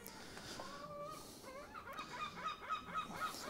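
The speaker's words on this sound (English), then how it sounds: "Our friendly birds are back on the roof." Birds honk and call from a workshop roof beside the water, a faint chorus of goose-like cries that grows more rhythmic and insistent toward the end.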